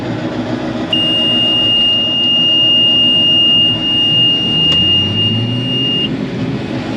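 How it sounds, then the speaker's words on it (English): A combine harvester's steady, high-pitched warning alarm sounds for about five seconds over the loud drone of the machine running close by. "Those alarms are annoying"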